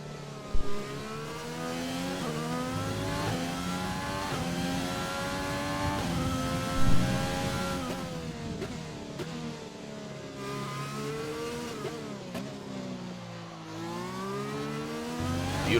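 Onboard Formula 1 car engine in a racing game at Circuit Paul Ricard, France, screaming continuously at high revs, its pitch climbing through each gear and dipping sharply on upshifts and braking, loud and close throughout.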